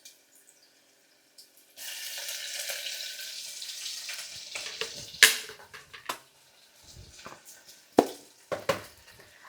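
Ginger and garlic hit a hot pan and sizzle steadily for several seconds, followed by a few sharp clatters and stirring knocks as the frying continues.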